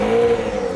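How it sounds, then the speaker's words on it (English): Honda CBR1000RR-R Fireblade SP motorcycle engine running at a steady, close idle-to-light rev, a sustained low hum with a strong tonal drone and no talk over it. "Engine starts."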